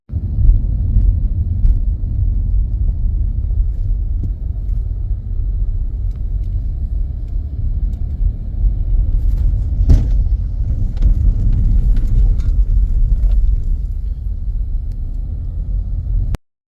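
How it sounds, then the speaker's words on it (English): A car creeps slowly up a dirt trail in the Chino Hills, a steady low engine rumble holding close throughout with little change, joined by a brief thump near the middle. "there was a car that came up the trail that was driving really slowly"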